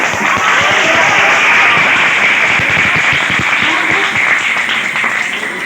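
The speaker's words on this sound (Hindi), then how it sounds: "इतनी सारी तालियां आप लोगों ने दी" An audience at a vocational education event claps loudly and steadily, a dense, close burst of applause that continues without a break and fades slightly at the end.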